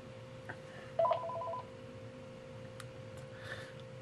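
A telephone gives a brief electronic ring, a short trilling burst of tones lasting about half a second, over a quiet room's low background hum.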